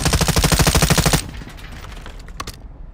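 Automatic weapon fire in the shooter game Call of Duty: Modern Warfare II rattles loud and close in a rapid, even burst for about a second, then gives way to quieter scattered sounds and a couple of sharp cracks.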